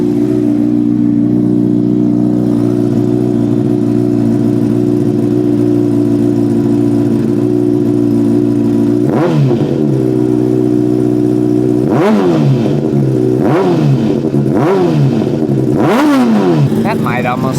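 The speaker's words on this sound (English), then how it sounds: "Give it a second to kind of warm up, and then we'll give her a couple revs and see how she screams." A Honda CBR600RR with a de-catted slip-on exhaust idles steadily, then is blipped through several sharp, loud revs in quick succession, each rising to a scream and dropping back to idle.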